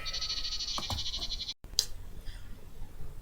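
Sheep bleating in a dramatic setting, a wavering bleat at the start followed by shorter cries after a brief gap, fairly close over a low background.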